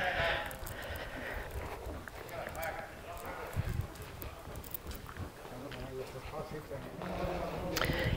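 A white stallion's hooves clip-clop softly and unevenly against steady background noise, with people talking over the steps.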